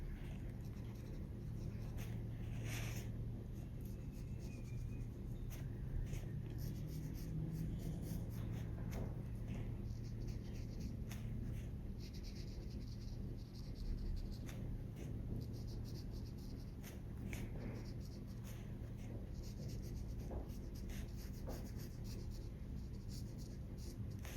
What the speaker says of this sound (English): when we go over with pencil, these areas in between the trees, we will make much darker.